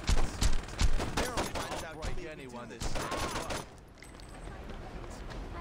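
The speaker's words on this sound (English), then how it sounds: "Oh, you're shooting Donnie?" Gunfire in the video game Saints Row 2, a quick burst of loud shots up front, then scattered shots under game voices and noise.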